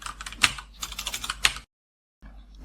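Rapid typing on a computer keyboard, filling a text box while designing a C# Windows Forms product form; quick close clicks run for about a second and a half, then stop in silence before faint room noise returns.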